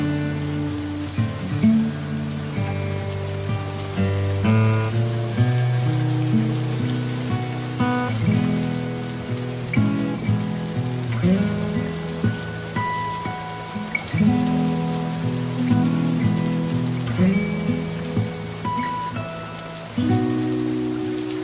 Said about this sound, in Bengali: ভাবতে পারছো এত বৃষ্টি হচ্ছে।